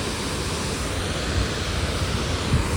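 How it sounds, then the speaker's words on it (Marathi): Water released through a dam spillway in Munnar, Kerala, makes a steady, dense roar of rushing water that stays close and continuous throughout, with no voices. "इकडचं पाणी ना इकडे सोडलं जातं आणि कोणत्याच स्पीडने येते बघा ना ते पाणी"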